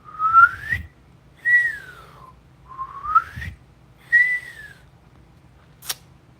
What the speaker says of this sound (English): Outward whistle.